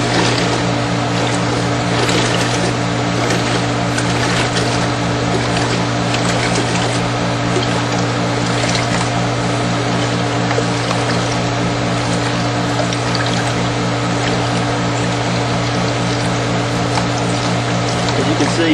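A deep well hand pump is worked stroke after stroke, making a loud, continuous mechanical churning with a steady rhythmic pulse as water is drawn up outdoors.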